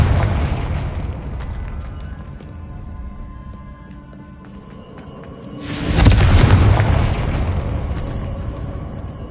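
A Confringo blasting spell going off in the video game Hogwarts Legacy, one sudden loud explosive burst in the middle that rolls on as rumbling debris, set over steady game ambience.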